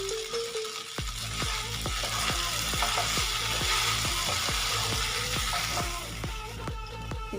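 Whole green chillies dropped into hot oil for a milk pasta, sizzling loudly and steadily, with regular scraping strokes of a spoon stirring through the crackle.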